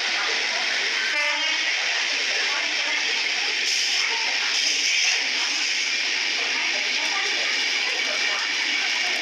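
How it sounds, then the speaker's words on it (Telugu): Train 22642 Shalimar–Thiruvananthapuram Superfast Express rushes past close by, producing a loud, continuous roar of wheels and rushing air that stays steady throughout, with a brief horn-like tone near the start. "మనల్ని ఇప్పుడు క్రాస్ అవుతున్న ట్రైన్ 22642 షాలిమార్ అంటే కలకత్తా నుంచి తిరువనంతపురం మధ్య ప్రయాణించే సూపర్ ఫాస్ట్ ఎక్స్ప్రెస్"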